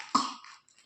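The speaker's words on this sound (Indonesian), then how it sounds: "Batuknya ini nih." A sick child with a fever and cold gives a single short cough, close and fairly faint, followed by quiet.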